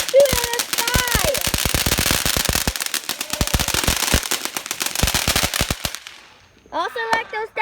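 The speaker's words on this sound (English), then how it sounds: "because they're fireworks and they're amazing" Fourth of July fireworks and firecrackers crackle in rapid, loud bursts of sharp pops for about six seconds, then fade as a voice speaks over them.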